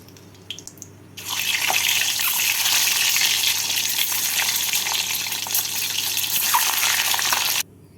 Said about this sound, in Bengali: বাকি টুকরো করা ডিমগুলোকেও এভাবে ভেজে নিচ্ছি